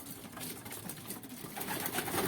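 Pigeons coo around a bird trap with a landing board, soft repeated calls over a steady background hiss.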